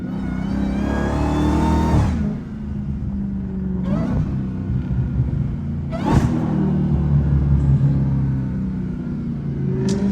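A Dodge Hellcat fitted with a flame kit revs hard and loud up close, with sharp throttle blips around two, four and six seconds over a steady deep engine rumble.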